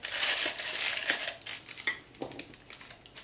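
A plastic piping bag for icing being fitted over a glass, giving close, continuous crinkling and rustling of plastic that breaks into shorter crackles toward the end.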